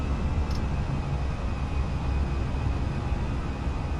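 Engines of a Fenix A320 airliner spool up to climb thrust in a flight simulator, a steady, loud, broadband roar with a low rumble that holds evenly throughout.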